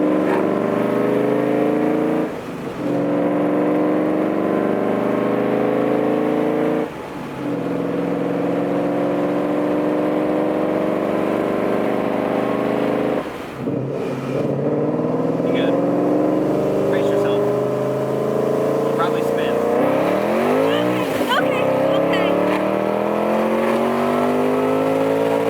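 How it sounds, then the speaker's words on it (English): A car fitted with Kooks headers accelerates at part throttle through several gears, heard from inside with windows down, the engine droning and rising with brief dips at each shift; a voice talks over it. "Just some part throttle accelerations, kind of hear what it sounds like with the windows down."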